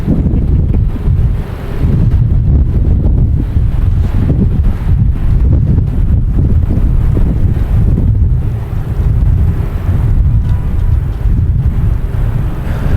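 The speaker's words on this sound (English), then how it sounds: "the wind starts gusting like crazy" Strong wind gusts buffet the microphone outdoors at Boston Logan Airport, a loud continuous low roar that swells and dips throughout, with no voices heard.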